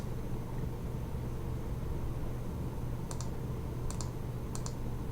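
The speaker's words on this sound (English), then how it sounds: "I have to click again." Computer mouse clicks while working in an old game project, three quick double clicks late in the stretch over a steady low background hum.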